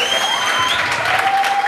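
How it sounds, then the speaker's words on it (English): Audience applause at a boxing event in Kenya, a dense continuous wash of clapping from a crowd with faint tones running underneath. "Round of applause."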